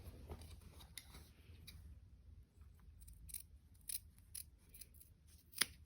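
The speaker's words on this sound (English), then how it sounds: "It does get a bit bulky here, so I'm just going to trim it down a little." Scissors trim fabric at the hem of a sewn shirt: quiet, close snips and light clicks spread irregularly, with a sharper snip near the end and little else in the background.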